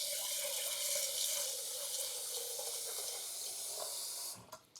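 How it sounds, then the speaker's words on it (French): Tap water runs steadily into a small cooking pot of rice for rinsing, a close, constant hissing stream that stops abruptly near the end. "J'ajoute de l'eau pour nettoyer le riz."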